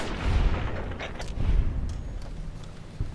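Gunfire in Fallout New Vegas comes as a few low, muffled booms spread across a few seconds over a dull rumbling game background, with no voices.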